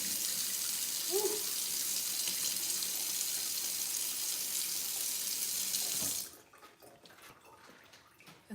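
Water running steadily from a kitchen tap into a sink, a close, continuous hiss that stops abruptly near the end, leaving quiet room noise.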